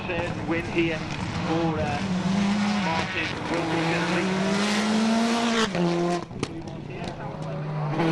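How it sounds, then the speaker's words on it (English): Mitsubishi Lancer World Rally car at full throttle on a dry special stage, its engine note rising and falling through gear changes, loud and close throughout with tire squeal and a brief lift near the end. "on the spectacular Super Special would be the flame-spitting Mitsubishi Lancer World Rally car of Martin Wilkinson"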